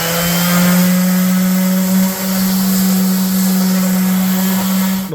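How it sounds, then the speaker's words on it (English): An orbital sander works across the top of a 1930s end table, giving off a continuous, fairly loud motor whine and buzzing hum, with a brief dip partway through as pressure on the wood shifts. "Instead of chemically stripping the top of this, I'm just going to use the orbital"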